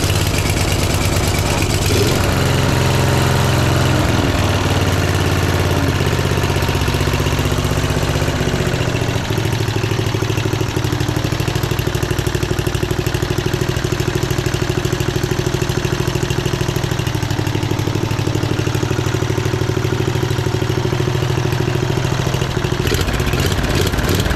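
A junk-built budget racing lawn mower engine runs loud and steady for the whole stretch, settling into a continuous rumbling idle with some mechanical clatter and vibration, close by with no talking.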